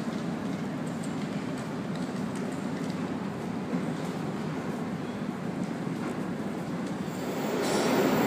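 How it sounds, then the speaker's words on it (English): Sydney Trains Oscar set pulling into platform 4 at Town Hall station, a steady loud rumble of wheels and motors filling the underground platform, swelling slightly near the end as the carriages roll past. "Oscar arriving on platform 4. Hurstville service."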